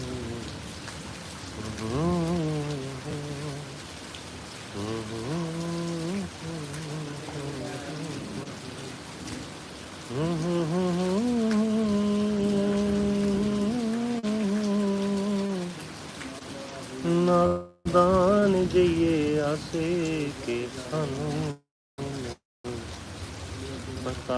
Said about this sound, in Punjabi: ਚਾਚਾ ਜੀ ਮੀਂਹ ਬਹੁਤ ਪਈ ਜਾਂਦਾਗਾ